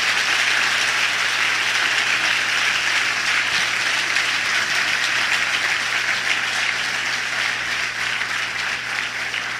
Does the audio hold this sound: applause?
yes